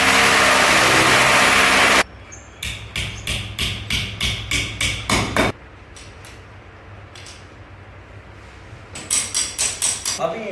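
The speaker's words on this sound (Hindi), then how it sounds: "वहाँ पर सुराख करेंगे तो इनको ठोक देंगे।" Building a homemade gym stand: a loud continuous drill boring a hole into a wall, then a steady run of about a dozen sharp hammer blows driving in wall plugs, and a later short burst of further strikes.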